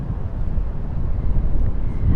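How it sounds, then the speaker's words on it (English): Wind gusting across a rooftop in New York City, a loud, steady low rumble of wind buffeting the microphone with no talk. "Although it is still windy up here."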